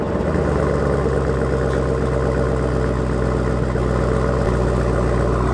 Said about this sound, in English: Last cold start on juice right here. 2019 Camaro ZL1. Stock MPP exhaust.